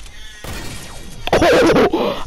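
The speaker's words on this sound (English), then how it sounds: "I sniped him" A sniper rifle shot in the video game Fortnite cracks out as a sharp, loud burst, followed by a second harsh crash-like hit and tonal game sounds.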